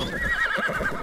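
Horse whinnying in the video game ARK Aberration, a brief, loud, wavering neigh with a fluttering, tremulous tone over low game rumble.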